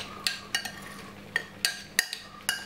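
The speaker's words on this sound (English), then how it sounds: "Give it a lovely mix." A spoon clinks against a bowl while stirring soy sauce and honey, giving about eight sharp, bright taps in an uneven rhythm over a quiet background.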